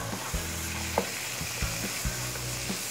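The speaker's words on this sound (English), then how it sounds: "we're gonna cook this meat down until there's no more pink inside" Ground meat with chopped celery and onions frying in a pan, a steady close sizzle broken by a few sharp scrapes and stirs of the utensil, with no talking.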